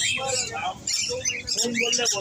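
Parrots, including grey parrots and Amazons, squawk and chirp in rapid, overlapping bursts at a crowded bird and animal market in Srirampur, with voices talking close by amid the calls.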